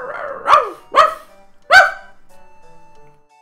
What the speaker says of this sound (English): You gotta talk to the dog.